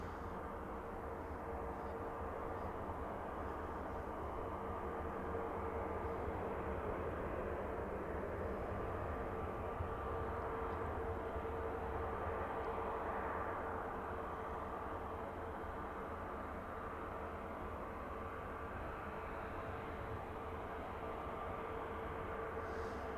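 Jet aircraft at Manchester Airport, including a Ryanair Boeing 737-800, make a steady, continuous outdoor engine roar and broadband rumble that holds at a fairly even, distant level throughout with no talk.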